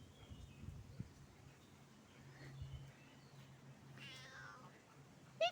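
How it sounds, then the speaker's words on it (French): A domestic cat on its first outing gives a faint, soft meow or two against quiet background hiss, with no talking. "première sortie de notre chat"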